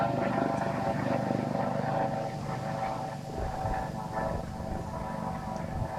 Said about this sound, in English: The ambulance, helicopter. Let's see. There it is.